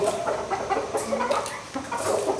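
Rapid, repeated clucking from a rooster close by, steady throughout with short choppy calls and a busy background.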